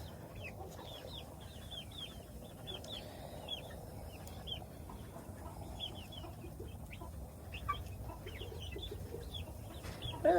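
Flock of backyard homestead chickens clucking and calling softly while pecking at a newly introduced bird, a busy scatter of short clucks over low background noise, fairly quiet and without speech.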